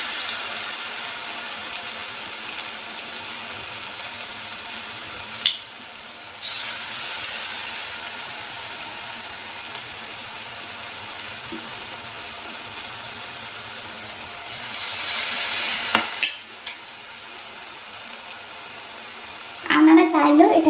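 Cauliflower pakora sizzles in oil over a low flame, a steady broadband frying hiss that runs throughout with two brief dips and a few light clinks near the end.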